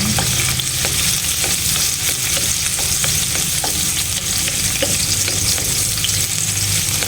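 Garlic and aromatics sauté in a hot pan for crab in coconut milk with squash, a loud, steady sizzle and crackle with occasional stirring scrapes, no talking.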